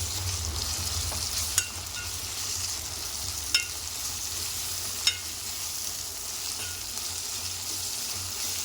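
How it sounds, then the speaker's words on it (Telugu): Ginger garlic paste frying in a pan for a bitter gourd (kakarakaya) curry gives a steady, close sizzle, with a few sharp spatula scrapes and clicks as it is stirred. "అది కొంచెం పచ్చివాసన పోయే వరకు కొంచెం కలిపేసుకోవాలి"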